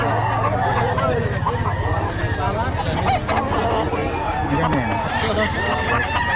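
Chickens and roosters at a busy Friday open-air market in Bocaue, with clucking and crowing mixed into constant crowd noise and people talking close by.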